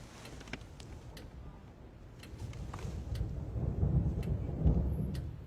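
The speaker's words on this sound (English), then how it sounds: "Here's a storm." A thunderstorm builds with low rumbling thunder that swells louder toward the end, over a steady wash of rain and scattered sharp crackles.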